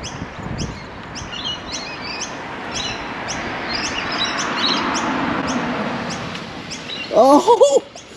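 Pigeons on a Sydney street give soft repeated chirps and coos over steady traffic-like background noise, ending in a louder, close burst of calls.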